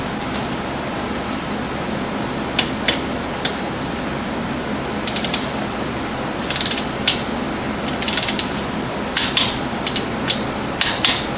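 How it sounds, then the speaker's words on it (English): A ratchet torque wrench with a 14mm socket tightens a front hub bolt on a 2005 Suzuki Eiger ATV, giving quick bursts of sharp metallic clicks at irregular intervals over a steady background hiss. "That one is a 14 millimeter socket and will be torqued to 29 foot-pounds or 348 inch-pounds."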